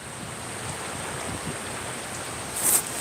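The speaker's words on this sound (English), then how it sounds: "The water is really coming in," Floodwater rushing during a flash flood in Pigeon Forge, a steady broadband roar of fast-moving water with wind buffeting the microphone, continuous and fairly loud throughout.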